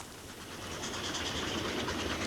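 A steam train runs downhill on the Somerset and Dorset railway south of Masbury, its wheels keeping up a steady, continuous rolling rumble with a faint clickety rhythm over the rails.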